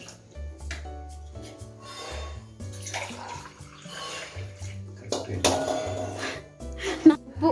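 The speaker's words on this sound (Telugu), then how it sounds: "4 గ్లాసుల వాటర్ పోసుకుంటున్నాం" Four glasses of water poured into a pot of rice for Telangana bagara rice, a splashing, rushing pour that rises and falls over the clip, heard under a steady low hum with talk nearby.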